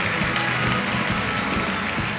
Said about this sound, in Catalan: Un aplaudiment per aquest equip